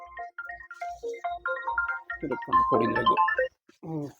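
A mobile phone ringtone plays a short repeating melody during rose bunch packing on a farm, then a voice speaks over and after it at close range.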